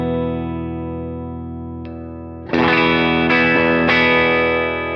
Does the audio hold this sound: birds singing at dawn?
no